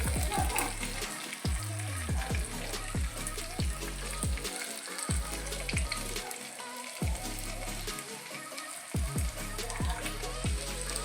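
Garlic and curry leaves crackle in hot oil for a tempering meant for a monsoon bamboo-shoot sambar from the Malnad region. A continuous, moderately loud sizzle carries throughout the stretch.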